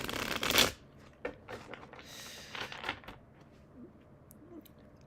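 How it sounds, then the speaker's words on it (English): A deck of tarot cards is shuffled up close, opening with a loud fast riffle and then softer sliding and tapping as the cards are handled, with no speech. "let me get a little shuffle in, and we'll see what the cards say"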